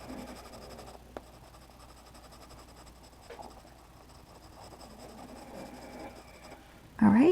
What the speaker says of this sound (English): And now I'm going to take an HB. That's a hard black. That's the lightest graphite pencil I have.